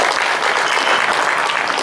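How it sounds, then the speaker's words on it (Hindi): An audience applauds at a Hindi kavi sammelan, a poetry recital gathering, with dense, even clapping that holds steady and close throughout. "एक बार तालियां बजाती है"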